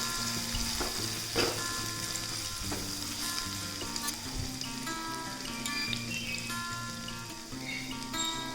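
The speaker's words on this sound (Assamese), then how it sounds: "1 মিনিট এনেকৈ আদা নহৰুখিনি আৰু জলকীয়াখিনি ভাজি লওঁ" Ginger, garlic and green chilli fry in hot oil, giving a continuous close sizzle dotted with small crackles and pops, with no voices.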